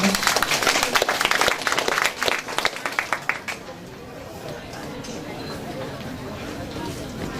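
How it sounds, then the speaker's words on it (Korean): An audience at a multicultural family festival claps for elementary school award winners, with dense applause for about three seconds that thins into scattered claps and fades into quiet room murmur. "여러분 수상자들에게 큰 박수 한 번 보내주세요"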